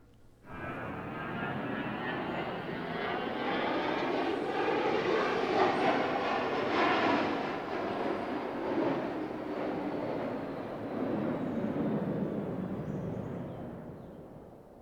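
A Lockheed F-94C Starfire jet aircraft with its Pratt & Whitney jet engine roars past, a broad, steady engine noise that rises and holds loud for nearly fifteen seconds, with no talk.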